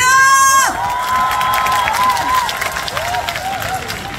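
Concert crowd at a touring music show in Buyeo claps and cheers loudly, shouts and whoops rising over sustained applause after a sung or shouted phrase at the start.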